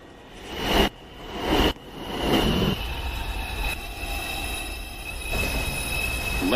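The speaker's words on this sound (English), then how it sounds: "Step aside and let the customers off the train first." An automated NYC subway train pulls into Rose Street station with loud wheel squeal and rail rumble that rise and fall in bursts, then settle into a steady, close mechanical drone of the stopping cars.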